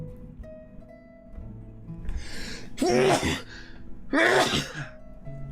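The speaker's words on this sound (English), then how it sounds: "A big sneeze" Two loud sneezes from one person, each with a sharp breathy burst, spaced about a second apart, close to the microphone in a quiet room.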